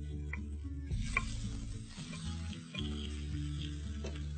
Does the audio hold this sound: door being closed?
no